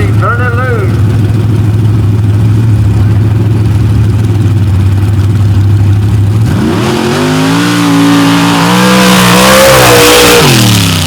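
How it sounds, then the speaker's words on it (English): Supercharged blower motor built by Big John Conkle in a big black Jeep on an off-road drag racing run, loud and close, idling roughly before roaring up through rising revs that climb and waver to the end. "Big John Conkle performance engine in the front of the big black George Farms Jeep."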